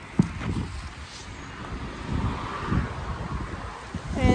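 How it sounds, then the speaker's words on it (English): Wind blowing outdoors, buffeting the microphone in a continuous rough rumble that swells and fades, close and moderately loud, with no other clear sounds. "My hair is down, but the wind is blowing."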